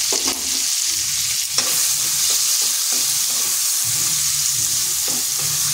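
A medium tomato with salt and turmeric powder frying in a pan, loud continuous sizzling with irregular stirring scrapes and utensil clinks throughout.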